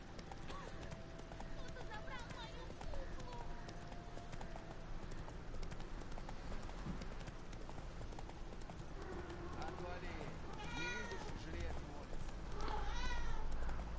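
Horse hooves clip-clop steadily as a horse is ridden in The Witcher 3: Wild Hunt, a close rhythmic trot running throughout under game music and someone talking over it.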